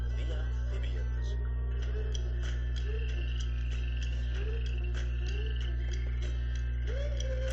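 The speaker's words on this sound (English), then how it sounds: "this frog is not mammals, not birds, not fish" A frog croaks in a repeated rhythmic series of short calls, loud and close, over a constant low hum.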